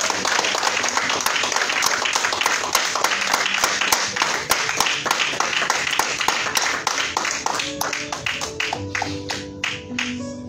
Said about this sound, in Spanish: Den un fuerte aplauso a la presencia de Dios